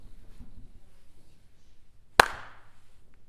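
One sharp, loud hand clap cracks out alone at a school percussion and jazz concert, a single crisp strike with a short decaying tail over quiet room noise.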